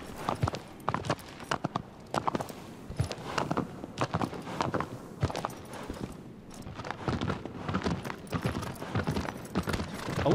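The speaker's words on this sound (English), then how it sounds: "Hard to control this horse," Horse hooves clip-clop steadily in the video game Shadow of the Colossus, a continuous rhythmic trot with dense, fairly loud hoof beats and faint background ambience.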